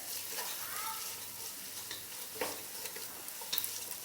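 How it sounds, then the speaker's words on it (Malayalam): Grated carrot sautéing in a pan for chicken pasta gives a faint, steady sizzle, with a few soft scrapes and clicks of stirring. No one speaks. "ഇതൊന്ന് നന്നായിട്ട് വഴന്ന് വരട്ടെ."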